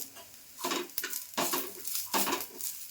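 Prawn masala with coriander is stir-fried in a pan. A utensil scrapes and clinks against the metal in several quick strokes over a soft sizzle.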